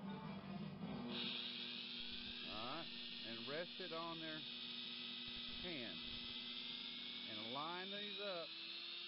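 A Dremel rotary tool whines with a steady high-pitched hum while it cuts wire jump rings held in a pen vise. A person talks briefly over it.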